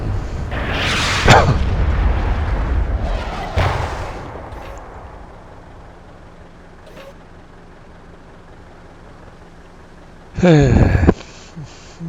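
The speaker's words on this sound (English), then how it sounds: "That was a direct hit by an artillery piece." An artillery shell slams in during a World of Tanks battle, a loud, close boom followed by a second heavier impact, then a quieter engine rumble and a brief sharp metallic burst near the end.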